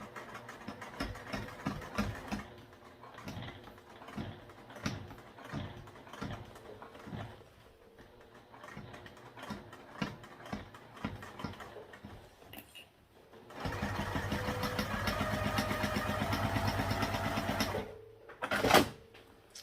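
A sewing machine runs slowly through a bulky crossbody bag seam, first in short separate bursts of stitching with pauses between them, then in one steady, louder run of several seconds that ends abruptly, followed by a brief final burst.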